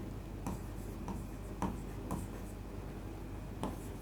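Faint pen or chalk strokes writing numbers during a maths lesson on measuring time, a few soft scratchy taps spaced irregularly over a steady low background hum, with no talking.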